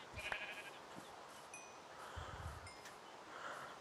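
Sheep in a survival video game bleat a few times, short and faint, amid soft ambient rustling and wind.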